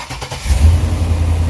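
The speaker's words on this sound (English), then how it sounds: "Brother Chris is working on getting this lawnmower started." A lawnmower engine cranks with a few rough turns, then catches and settles into a steady, close, loud running drone with no talking.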